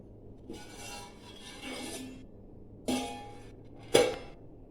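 The lid comes off a pot of mushroom biryani with scraping metal rubs, then two sharp clinks of lid against the vessel, fairly close and alone without talk.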